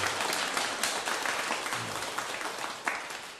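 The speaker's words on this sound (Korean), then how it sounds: "박수 한번 부탁드릴게요" Audience applause at a Buddhist temple talk in Korea, a sustained close burst of many hands clapping that holds for several seconds at steady strength with a few sharper claps on top.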